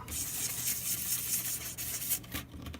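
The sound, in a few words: light sanding with sandpaper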